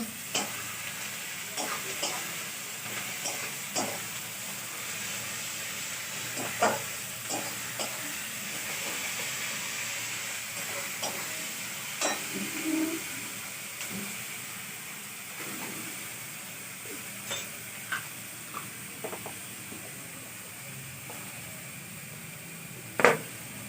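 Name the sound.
garlic added to a hot pan, frying and sizzling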